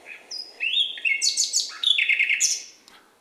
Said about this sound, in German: da singt die Nachtigall mit zwei verschiedenen Tönen zur gleichen Zeit.